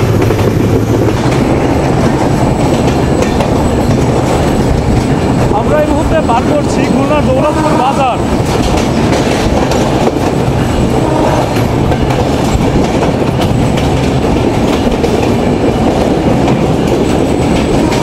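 The Kapotaksha Express passenger train rolls loudly along the rails near Daulatpur station in Khulna, a constant close rumble with rhythmic clickety-clack of wheels and brief squeals, with faint voices underneath.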